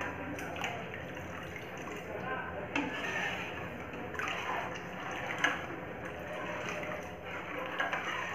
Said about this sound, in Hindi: अब इसमें हम थोड़ा थोड़ा करके पनीर वाला जो पानी है वो डालेंगे